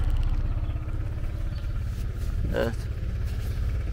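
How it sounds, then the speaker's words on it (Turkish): A Sym Joymax Z+ 2023 scooter engine runs at a low, steady idle with faint mechanical clatter, while someone speaks briefly over it. "Çalıştıralım motorumuzu."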